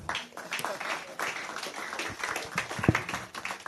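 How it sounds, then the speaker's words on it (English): Sustained audience clapping for a keynote speaker at a business innovation series event, dense and continuous with scattered louder individual claps rising out of the crowd noise. "Let's give him a round of applause."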